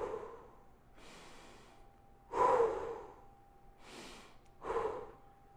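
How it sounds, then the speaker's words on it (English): Someone breathes in through the nose and out through the mouth during a lower-body workout: five separate close breaths, with two loud, forceful exhales among softer ones and short pauses between them. "Breathing in through your nose, out through your mouth."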